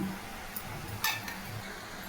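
Greens and lentils frying in a pan for a Mandya-style upsaaru, with a steady low sizzle and a few brief clinks of a utensil stirring against the metal.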